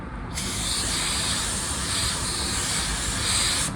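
A spray can of Bulldog adhesion promoter hisses onto bare bumper plastic in one continuous loud, close spray lasting over three seconds with slight pulsing as the can sweeps.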